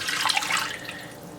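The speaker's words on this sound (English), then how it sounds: "in my pan, I'm going to dump in my reserved marinade" Reserved marinade is poured into a pan, a short, close splash and trickle of liquid that fades out within about a second.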